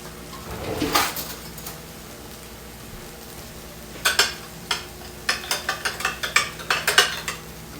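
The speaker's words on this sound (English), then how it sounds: "Now this harissa I got to stir up, and I have to actually use a spoon for" A spoon stirs harissa in a small container, tapping and scraping in a quick run of light clinks after an earlier single scrape. The sound is close and there are no voices.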